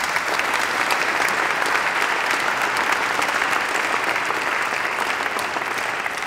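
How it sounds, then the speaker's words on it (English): An audience at an ideas conference breaks into a round of applause, a full, continuous wash of clapping that stays loud and uniform for several seconds. "Round of applause"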